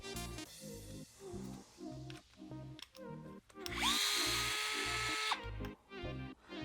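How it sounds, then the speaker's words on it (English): A power driver whirs in one sustained burst of about a second and a half as it backs out the screw holding the switch on an Arrma 1/10 RC car. Softer knocks and handling clicks come before and after it, close by. "The next step is to remove the screw that's holding the switch down so that we can access the servo screws"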